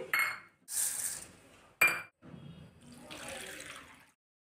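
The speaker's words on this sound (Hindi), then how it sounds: "दोनों ही दाल एकदम अच्छे से रगड़ रगड़ के धोएंगे" Chana dal and toor dal being washed together in water, with splashing bursts from a running tap and clinks of a vessel, close up, with pauses between, no speech.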